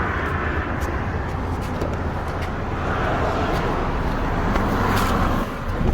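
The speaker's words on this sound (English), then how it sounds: "the car engine is start now" A car engine runs steadily after being started by a newly installed remote start system, giving a continuous broadband rumble with a constant low hum throughout and no talking.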